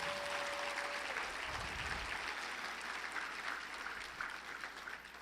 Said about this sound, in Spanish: Si yo fuera tú, le daría un aplauso fuerte al Señor.